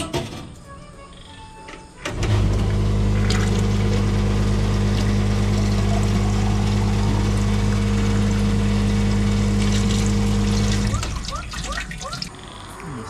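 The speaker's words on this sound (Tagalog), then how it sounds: "sana gumana tong refiller ng tubig" A coin-operated water refill machine at a roadside stop hums loudly as it dispenses water in one long steady run of about nine seconds, starting and stopping abruptly, with quieter background noise around it.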